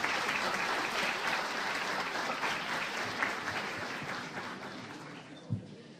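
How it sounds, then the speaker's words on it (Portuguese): Audience applause at a pre-hospital emergency care training course in Brazil: dense, steady clapping from a crowd for about six seconds, slowly thinning toward the end. "Uma salva de palmas para o doutor Mola."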